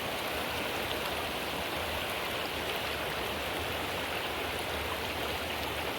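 A stream on the way to Rangamati rushes steadily in a continuous, even wash of water noise, moderately close and uninterrupted.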